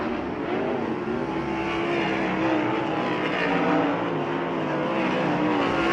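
Dirt track race cars roar in qualifying at Bubba Raceway Park, a dense, continuous engine drone with shifting pitch as cars circle, loud and sustained with faint commentary mixed in beneath.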